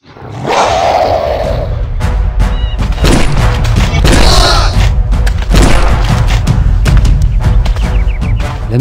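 Loud gunshots and booming blasts in the virtual reality dinosaur hunting game Dinosaur Island VR on PlayStation VR, close repeated heavy shots with roaring rumble, dense and continuous over the stretch.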